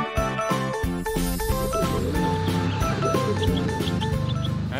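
A bright, tinkling jingle melody plays steadily with repeating musical notes, loud and continuous like an ice cream truck tune, with no talking.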